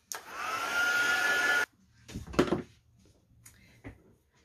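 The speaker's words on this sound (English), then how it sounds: "I'm just going to give that a dry with the heat tool" A heat tool blows steadily to dry wet ink on a handmade card, a loud continuous whir lasting about a second and a half before cutting off, followed by faint handling knocks and rustles.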